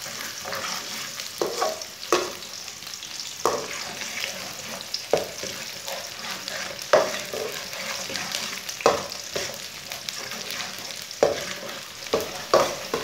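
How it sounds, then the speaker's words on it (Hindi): Finely chopped onions fry to a light brown in a pan for a dhaba-style chana dal palak, with a steady sizzle and repeated scraping stirs from a spoon, close and without talk. "प्याज को हल्का सा ब्राउन कर लेंगे।"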